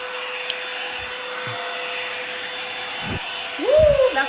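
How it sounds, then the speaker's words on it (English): A Revlon One Step blow dryer runs on high heat while styling 4C natural hair, giving a steady, close whooshing roar throughout, with a short vocal exclamation rising over it near the end. "Today I'll be reviewing the Revlon One Step Blow Dryer."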